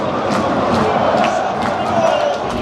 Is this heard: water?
no